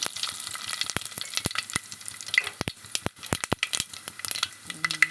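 Cumin and mustard seeds fry in hot oil inside a pressure cooker, crackling and popping in dense irregular bursts over a close, steady sizzle.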